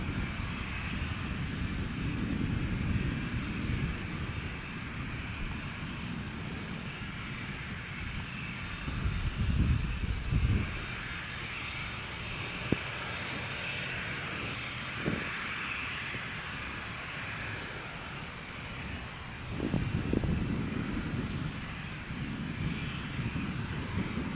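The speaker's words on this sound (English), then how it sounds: "So our next departure here is our Virgin 737 off to Melbourne this morning." A Virgin Boeing 737 rumbles at Gold Coast Airport with a steady, broad jet-engine roar that swells slightly at moments. It is heard from a moderate distance with wind buffeting the microphone.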